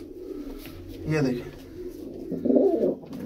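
Pigeons of a breed kept for sale in Jammu, some with red eyes, coo in low throaty bursts close by while someone talks over them.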